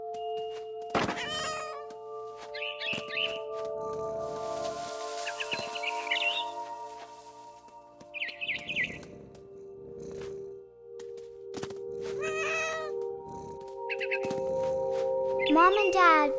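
In the video game What Remains of Edith Finch, a cat gives a series of short meows and a few harsher caterwauls, spaced out over quiet ambience, with a narrating voice speaking between them and a bird's fluttering cries.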